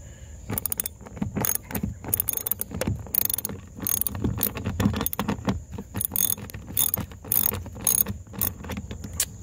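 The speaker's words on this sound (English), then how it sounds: "we are using a, what size, 10 millimeter ratchet here to get at, to take this bolt out" A 10 mm ratchet works a bolt loose on a Tesla Model 3, giving rapid bursts of close, metallic clicking. The clicks come in irregular strokes with short pauses between them and no voices.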